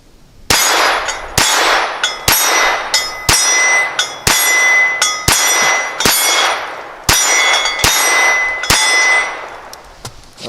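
A Ruger LCP II .22 pistol firing CCI rounds, around a dozen loud, close, sharp reports at a steady, quick pace with short ringing tails.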